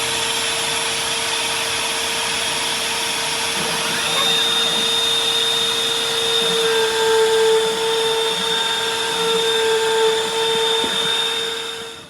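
A CNC Shark router cuts out a design, producing a loud, steady high-pitched whine with a grinding edge that holds continuously throughout, close by with no talk.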